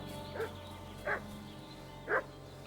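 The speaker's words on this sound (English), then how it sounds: "What's that dog making such a fuss about?" Dog barking in Kingdom Come Deliverance 2, three separate yelping barks at a moderate distance over a steady ambient hum, with no talk.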